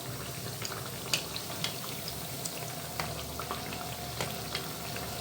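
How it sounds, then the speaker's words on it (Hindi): Bajra tikkis, millet patties, frying in hot oil, giving a steady close sizzle and bubbling with scattered small pops and crackles throughout, no voices. "टिक्कियाँ फ्राई होना शुरू हो गई हैं।"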